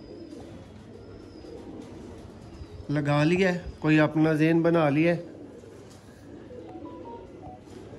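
Pigeons cooing at a Sialkot loft holding birds for sale, low murmuring coos behind someone speaking, the voice swelling for a few seconds before fading back to the quiet cooing.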